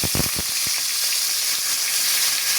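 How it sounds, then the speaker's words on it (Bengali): Pomfret fish lightly frying in oil in a pan, a close, steady sizzle with a few brief crackling pops at the start, continuing evenly without any talk. "এখন একটু হালকা ফ্রাই করে নিচ্ছি।"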